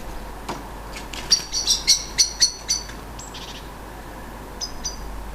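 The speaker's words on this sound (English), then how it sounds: "The female magpie makes a squeaking sound while the blackbird screams at her to leave." Female magpie squeaking while a blackbird gives loud scolding calls, a burst of sharp repeated chirps in quick succession then a few fainter calls, outdoors over a steady background hiss.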